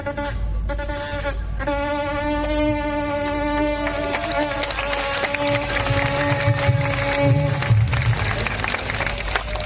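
On stage at a village festival show, a performer's voice imitates a buzzing fly with a sustained nasal, wavering drone, amplified and loud, while crowd noise rises behind it.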